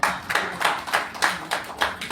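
An audience at a women achievers awards ceremony in a hotel claps in a loose rhythmic beat, roughly seven or eight distinct bursts of hands striking together in quick succession, fairly close and lively.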